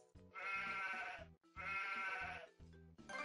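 Two long, loud sheep bleats in a Bubble Guppies children's video game, each lasting about a second with a short gap between them, followed by the start of a third, with no speech over them.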